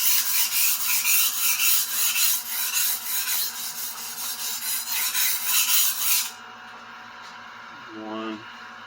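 A budget Henckels chef knife rasps steadily across a whetstone in repeated strokes for about six seconds, close and fairly loud, then stops, leaving quiet room tone with a brief low hum near the end.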